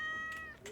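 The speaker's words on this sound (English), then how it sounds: "Can I pet the cat?" A cat in the Stardew Valley video game gives a single short, quiet meow while being petted, its tone rising briefly at the end.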